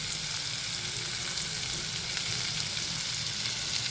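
Onion frying with salt in a pan: a steady, close crackling sizzle that holds even throughout, with no pauses and no talking.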